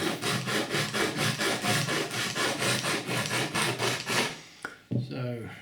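Wood being rubbed and rasped flat by hand while shaping a Native American flute, a steady back-and-forth scraping stroke repeating about twice a second, close and loud, ending with a couple of knocks.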